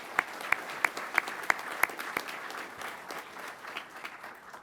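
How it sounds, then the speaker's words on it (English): An audience at a pilot training graduation applauding the aircraft maintainers, opening with a few sharp, evenly spaced claps before settling into a steady, fairly faint crowd applause. "Please a round of applause for our maintainers."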